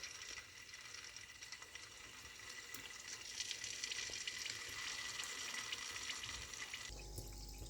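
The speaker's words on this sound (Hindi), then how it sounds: "अब इसको फ्राई करेंगे जब तक इसका कलर लाइट गोल्डन सा हो जाए" Chicken pieces for orange chicken fry in hot oil with a steady, faint sizzling hiss and scattered crackles that continue throughout before the sound shifts near the end.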